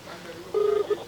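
Phone call to a politician, with a short electronic tone after a brief quiet stretch, followed by a second, shorter beep; soft and close, with a voice faintly present.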